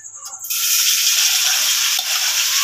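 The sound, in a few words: lightly frying sandwich filling in hot oil in a wok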